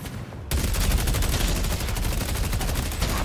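Rapid gunfire from the Valve hero shooter Deadlock, a dense, loud stream of repeated shots starting after a short quiet opening and continuing steadily to the end.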